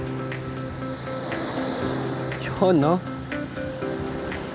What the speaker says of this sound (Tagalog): Ang lalakas ng alon guys.